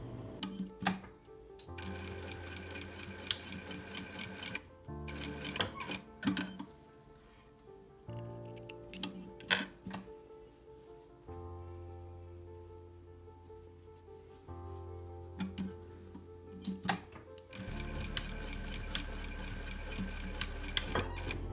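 Sewing machine stitching the facing of a baby bodysuit, running in short rhythmic bursts of rapid clatter separated by pauses, with a longer steady run at the end and no voices.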